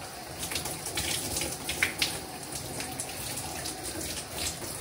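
A shower running in a dark bathroom, a steady hiss of falling water with scattered splashing spatters and a couple of sharper knocks near the middle, close and without speech.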